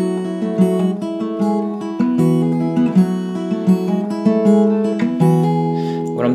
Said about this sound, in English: The intro riff sounds like this.